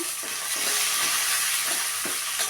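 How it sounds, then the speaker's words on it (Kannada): Green chili and garlic frying in a pan, a loud, continuous hiss and sizzle with faint rhythmic stirring underneath. "ಈಗ ಹಸಿಮೆಣಸಿನ್ಕಾಯಿ, ಬೆಳ್ಳುಳ್ಳಿ ಹಾಕಿ 1 ಸೆಕೆಂಡ್ ಫ್ರೈ ಮಾಡಿ."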